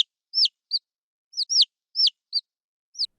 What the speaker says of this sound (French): Il est appelé cri d'offrande alimentaire et permet d'apprendre aux poussins à trouver la bonne nourriture.